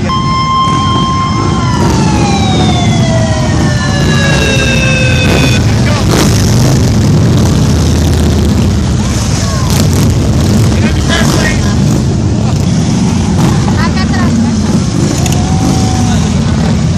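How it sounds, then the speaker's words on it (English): Sirens on police motorcycles wail and sweep downward as they pass close by during a July 4 event, followed by engine noise, traffic and voices talking and cheering. "Policemen on motorcycles"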